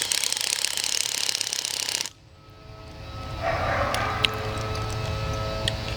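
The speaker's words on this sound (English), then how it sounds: "we're using the paddle bit to drill out the remaining old post" A cordless drill with a paddle bit bores out an old mailbox post, loud and close for about two seconds before cutting off abruptly into a quieter background hum.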